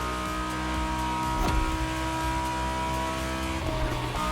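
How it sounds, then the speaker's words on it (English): A car accelerating at full throttle in The Crew Motorfest, a loud, steady engine roar that holds a constant drone with a faint tire squeal near the middle. "I'm just gonna go full throttle"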